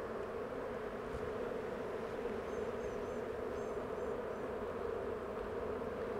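Soft, steady droning hum of many honey bees fanning at a hive, a constant low-pitched drone with faint chirps from birds in the background.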